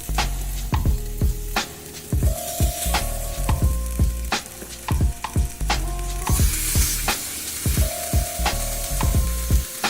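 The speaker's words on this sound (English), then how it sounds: "And get a nice sear on your ribs." Short ribs sear in olive oil inside an Instant Pot, a steady loud sizzle and crackle broken by repeated clacks and scrapes of a utensil turning the meat.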